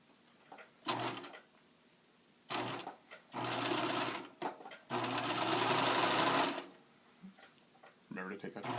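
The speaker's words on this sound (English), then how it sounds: "you're going to sew it at 3/8" A sewing machine stitching a French seam on fabric placed wrong sides together, running in several bursts of rapid mechanical whirring with short pauses and clicks between them, close and clear.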